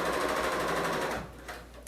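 A Bernina L890 serger sewing a seam, a fast continuous mechanical whirr with rapid rhythmic stitching that slows and stops near the end.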